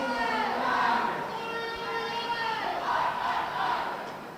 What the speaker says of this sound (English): Love listening to the noise of the crowd